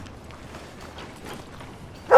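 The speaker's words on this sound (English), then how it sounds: "Get out of here, dog!" A single sharp dog bark in the video game Red Dead Redemption 2 pops out near the end, loud and close over a low murmur of game ambience.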